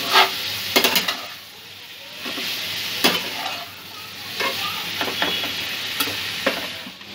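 Jackfruit and spices with ginger paste being stir-fried in a pan, a steady sizzle broken by repeated sharp scrapes and clacks of a spatula stirring, close and fairly loud with no talking.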